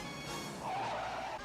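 Tires skid and squeal with a steady engine drone in a vintage car chase scene from the 1988 film Who Framed Roger Rabbit, a sustained screech rising midway and holding loud to the end, with no talk.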